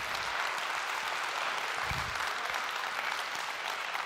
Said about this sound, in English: if you can all just give one last round of applause to our team back there and our team back in HQ